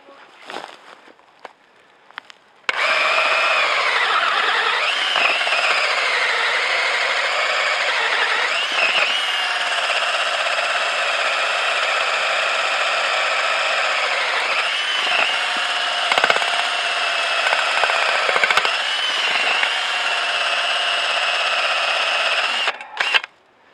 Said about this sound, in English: We may be hitting something there or hitting some hard roots, and that's why the auger's not grabbing.